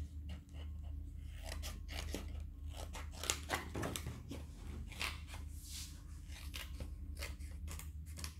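Scissors cut through a stack of paper for a scrapbooking kit ball box, a steady run of close, crisp snipping and crunching strokes that continues throughout without speech.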